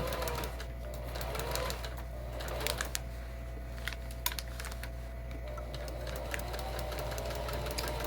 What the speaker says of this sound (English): we're going to stop our stitching to leave that opening